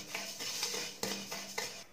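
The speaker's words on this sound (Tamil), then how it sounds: "அடுத்ததாக சீரகம், இது நல்லா சட சடன்னு வெடிக்கிற மாதிரி வறுத்துக்கலாம்." A wide ladle scrapes and clinks against a pan as cumin seeds dry-roast, giving several sharp metallic knocks and scrapes, quiet and close, with no talking.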